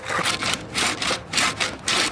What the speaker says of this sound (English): the sand is now steadily and slowly but surely cutting its way right through the stone